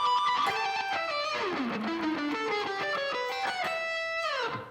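Electric guitar playing fast sextuplet phrases through a whammy pitch-shifting pedal, bright rapid notes that swoop down and back up in pitch, ending with a steady sustained note then a quick fall, loud and alone.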